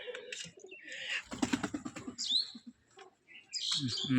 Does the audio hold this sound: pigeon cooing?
yes